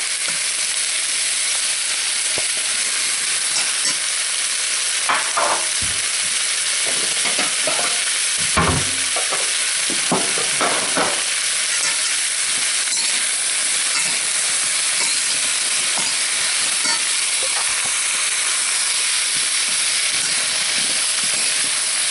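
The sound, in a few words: stir frying with garlic butter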